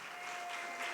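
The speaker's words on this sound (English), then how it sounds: "So please give her a big round of applause." Audience applause welcoming a newly hired executive director at a community gathering on Kaua'i, a steady, dense wash of clapping that holds evenly for the whole second, with a slight swell near the end.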